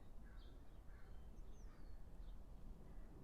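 Birds call in a garden in May or June, several faint chirps and short whistled notes scattered over a steady low rumble of background noise, with no talking.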